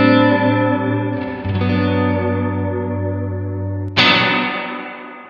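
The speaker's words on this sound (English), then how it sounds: "Right now we're set to the hall reverb, and we'll set to the second hall reverbs" A guitar played through a Fender Reflecting Pool pedal on its medium hall reverb setting rings out as sustained chords with a long, washing tail, a new chord struck near the end blooming loudly before decaying.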